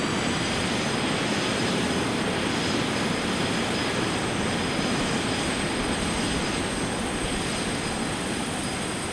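Steady, loud jet roar of a CRJ regional airliner's engines in climb, heard from inside the cabin as a continuous broadband rush with faint high whine, no talking.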